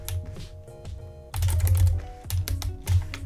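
Quick, irregular clatter of keys on a computer keyboard while code is typed in Unity, in bursts of several strokes over a low steady hum, close and clear.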